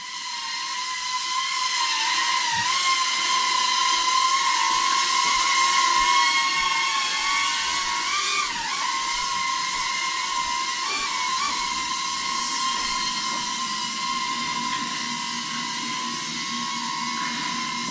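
Sanrock U61W drone flying fast on its high speed setting, a steady loud whining buzz of spinning propellers with layered motor tones that hold throughout and waver slightly as it manoeuvres, with no talking.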